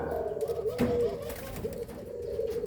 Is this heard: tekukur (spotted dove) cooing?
yes